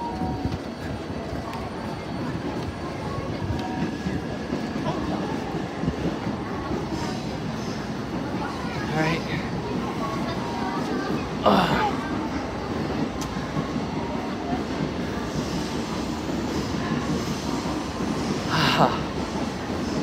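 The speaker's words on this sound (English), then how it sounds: "last chance to see the Shinkansen" Train sounds at Tokyo Station on a Shinkansen platform: a continuous rumbling hum with occasional wheel squeals and metallic clicks, heard amid station crowd noise and people talking nearby.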